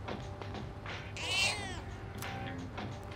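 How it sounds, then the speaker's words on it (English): A cat in the video game Persona 3 Reload gives a single thin, plaintive meow midway through over quiet background ambience, with softer mewing sounds after it. "It's mewing very weakly."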